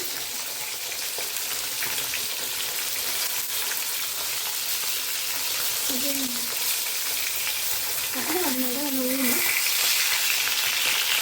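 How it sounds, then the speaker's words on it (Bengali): Fish fries in a pan with a steady, loud hiss of sizzling oil that runs unbroken throughout, with a couple of brief tonal sounds rising above it. "রান্না বসিয়েছি, চলছে রান্না, আর মাছ ভাজা চলছে, ভাত নামিয়েছি।"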